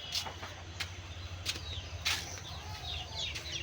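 Soft, scattered clucking of chickens, fairly quiet, over a low steady background rumble.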